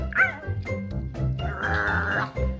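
A small dog yips and bow-wows close by in a quick string of short, high barks and whines, with background noise and some voices underneath.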